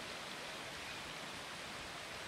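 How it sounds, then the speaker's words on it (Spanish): A river in Washington state flows with a steady, even rush of water, faint and continuous, with no voices. "aquí está este río"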